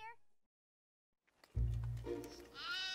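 A sheep lets out a loud, close, wavering bleat after a brief silence, the call swelling and holding for over a second.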